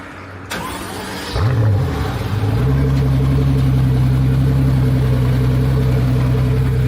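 A Pagani Huayra with a Mercedes-AMG twin-turbo V12 starting up: a click, a cranking whir, then the engine catches with a loud flare and settles into a deep, steady idle close by.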